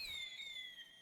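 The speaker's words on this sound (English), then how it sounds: "Lavish fireworks flew through the night sky." Fireworks from the video game The Hundred Line: Last Defense Academy, a bright whistling rise with sparkling crackle that fills the whole moment, loud and close with no voices over it.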